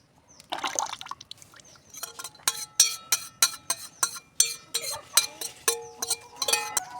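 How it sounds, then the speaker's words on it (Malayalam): Homemade laundry soap mixture with added colour sloshing and clinking in a bucket, with a steady series of sharp taps and splashes from vigorous stirring, close by. "എന്നിട്ട് നല്ലോണം മിക്സ് ചെയ്ത് കൊടുക്കാം"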